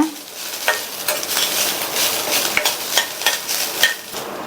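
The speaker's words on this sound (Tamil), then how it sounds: "இது கூட 1/4 கப் தேங்காய் துருவலை சேர்த்துட்டு 1 நிமிஷத்துக்கு நல்லா வதக்கி விட்டுக்கங்க" Cashews and grated coconut sautéing in a pan, giving a loud, close, continuous sizzle broken by quick scraping stir strokes, with no speech.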